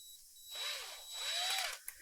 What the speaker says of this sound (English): I'm going to screw this in.